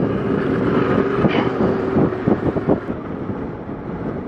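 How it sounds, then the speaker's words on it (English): Strong wind on a hilltop at Moolooloo Station in South Australia's Flinders Ranges buffets the microphone in a continuous roar, with gusty bursts and rumbling low noise throughout. "it's bloody windy, it's blowing a gale up here"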